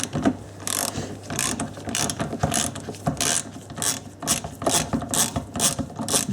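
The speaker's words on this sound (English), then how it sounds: "we're just going to remove this Torx screw. It's a size 40" A hand ratchet loosens a tight size 40 Torx screw on an Audi A4 side-view mirror, giving rapid repeated clicking bursts close up, one after another in a steady working rhythm.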